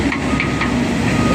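A working crane lowers its hook at a rainy earthmoving site, giving a loud, steady mechanical rumble laced with hiss that continues without a break and carries no talk.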